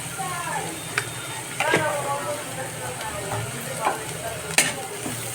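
Chopped tomato added to softened onion frying in a pan, with a steady low sizzle broken by several sharp clinks and scrapes of a utensil against the pan, and faint voices in the background.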